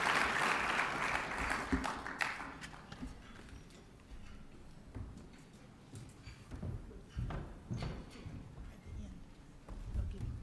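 An audience at an awards dinner applauds, a dense burst of clapping that is loudest at the start and then thins out into scattered claps and room noise.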